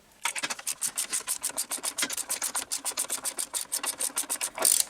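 Rapid repeated metallic rasping as 3/4 inch bolts are backed out of a Kubota SVL75-2 compact track loader, a steady ratcheting rhythm of about twenty strokes, close and fairly loud, no talk.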